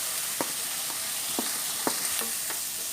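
Catfish pieces fry with salt and chilli in a pan, giving a steady hiss and sizzle broken by several short scraping stirs spaced irregularly across the clip.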